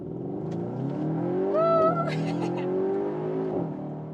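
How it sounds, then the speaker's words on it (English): Cupra Formentor VZ, a 333 hp all-wheel-drive facelift SUV, accelerating hard from 20 to 100 km/h, its engine note rising steadily with a brief gear-change shift, loud and close throughout. "So that was like 20 to 100 kilometers. Really nice acceleration, all-wheel drive here"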